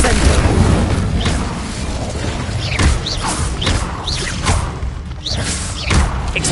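Incendio fire spell cast during combat in Hogwarts Legacy, loud close whooshing bursts and booming impacts repeating every second or so amid game combat noise, with spell incantations shouted over them.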